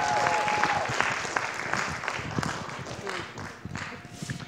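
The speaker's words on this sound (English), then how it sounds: "Let's give her another round of applause." Audience applause at a college electronic music concert, steady clapping from a crowd filling the room at moderate volume, with some voices mixed in.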